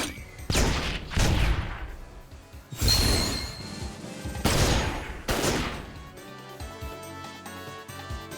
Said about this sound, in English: Just throw grenades at the boss.